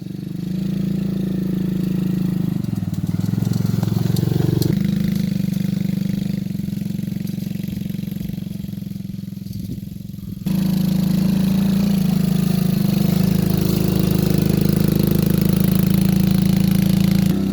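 A motorcycle engine idles and revs in a steady low rumble, dropping briefly before surging louder again, close by with no voices, in a forest on a safari tour as rain begins.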